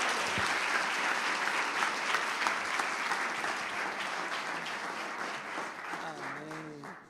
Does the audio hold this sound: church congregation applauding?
yes